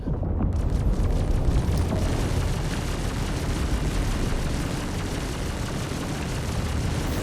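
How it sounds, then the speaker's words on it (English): A missile striking a tank hull in a Paladin versus Redeemer video game battle, heard as a long, heavy rumbling roar of explosion that stays loud and dense for several seconds with no clear break. "That missile done massive damage to my hull"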